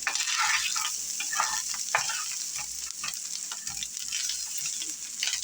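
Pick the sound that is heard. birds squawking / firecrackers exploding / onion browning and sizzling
onion browning and sizzling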